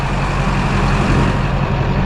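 A Chevrolet squarebody utility-bed truck with a 350 engine runs steadily, a loud, close, continuous low rumble with no pauses.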